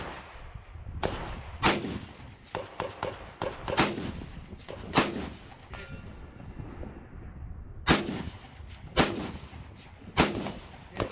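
Rifle shots fired at steel targets out to 200 yards during a multi-gun match at an outdoor gun club, a series of sharp, loud cracks at irregular intervals with faint metallic rings between them.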